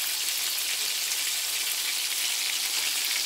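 Fish sizzles steadily in hot oil in a pan, frying lightly for a fish curry; a dense, even crackle runs alone without pause and no one talks.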